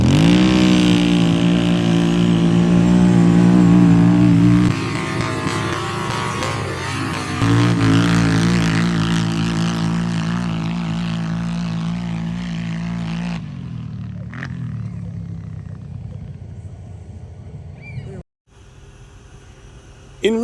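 Two ATVs, a Can-Am 650 4x4 and a Kawasaki KFX 700 ridden by riders of just over 200 pounds, race across sand dunes; loud sustained engine drone with revving surges that fade toward the end.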